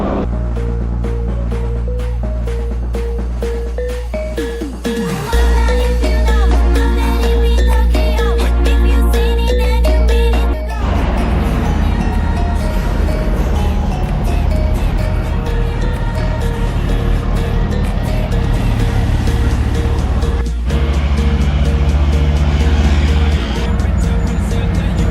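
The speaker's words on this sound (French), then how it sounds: "Vraiment, l'échappement il est incroyable." Lotus race car exhaust at the Le Mans 24 Hours, a loud close engine roar that revs and drones continuously, with a sharp shift in pitch partway through, with no speech over it.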